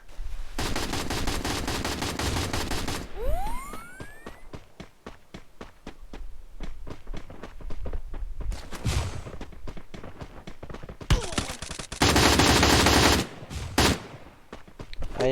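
Rapid bursts of automatic gunfire in a Thai action shooter game, close and loud, with clustered shots, a rising whistling sweep, and sharp explosive blasts near the end.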